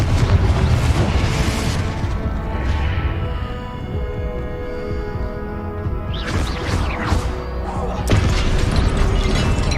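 Confringo spell blasts boom and crash during a Hogwarts Legacy video game battle, dense and loud, with magical whooshes and rumbling impacts layered over continuous combat noise, and a voice speaking at times.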